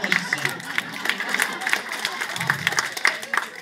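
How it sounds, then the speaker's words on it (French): Applause from a small group of young people on a pilgrimage outing after a card trick, with fairly sparse, uneven claps in a modest room, some individual hand strikes standing out from the patter. "On peut applaudir la magicien."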